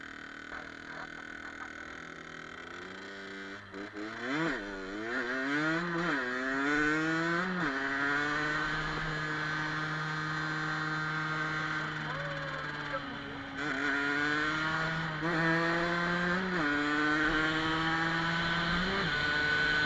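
A Gilera RCR motorcycle engine runs while riding, its note climbing and falling through several rev sweeps and gear changes before settling into a steady drone, close and continuous with talk over it.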